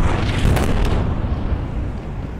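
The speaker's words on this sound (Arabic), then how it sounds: "وقصف المبنى بالكامل" A deep, heavy blast from an Israeli airstrike brings down the Al-Shorouk tower in the Gaza Strip, a loud booming rumble that swells early and then lingers as a long rolling roar.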